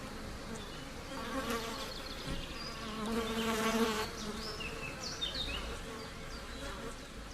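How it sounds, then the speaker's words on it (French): Flies buzz continuously nearby around a golden eagle chick, their droning whine rising and falling as they move around. "L'aiglon est harcelé par les mouches"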